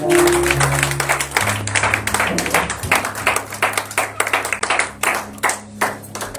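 Church congregation clapping and applauding during a Sunday service, a steady rhythmic clapping that builds and continues under lingering sustained tones, with a voice heard at the start.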